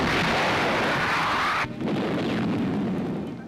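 Heavy artillery guns fire during a WWII newsreel bombardment of enemy positions near Boulogne, a dense, loud roar of blasts that cuts off sharply partway, leaving a lower rumbling wash that fades out.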